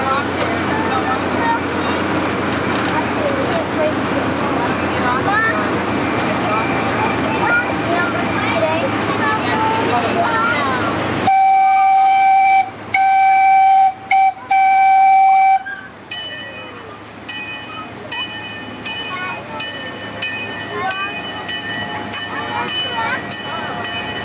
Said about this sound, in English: I ask that you please remain seated until the train comes to a complete stop.